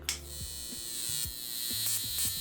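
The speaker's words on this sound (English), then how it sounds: "when it touches your skin, it makes a zappy noise" A small electric skin care device buzzes with a thin, high whine, broken by short low crackling zaps at irregular intervals as it touches the skin.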